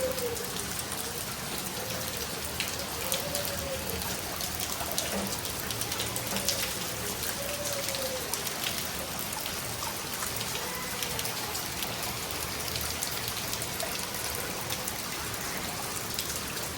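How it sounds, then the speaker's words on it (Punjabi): Steady heavy rain pours down on the streets outdoors after raining all night, a dense continuous hiss with drops pattering on surfaces, occasional faint birdsong above it. "ਦੇਖੋ ਕਿੰਨਾ ਮੀਂਹ ਲੱਗਾ ਹੋਇਆ ਸਾਰੀ ਰਾਤ ਦਾ"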